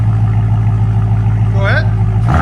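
A Dodge Hellcat Redeye on a Corsa Xtreme exhaust idles with a steady, deep, close rumble, and a brief rising whine blips in near the end, under talk.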